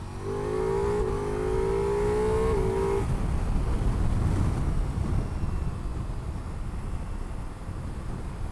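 Ducati Multistrada V4 Rally motorcycle cruising at highway speed, a steady loud engine drone with wind rush; a rising engine tone fades after about three seconds, leaving a constant roar.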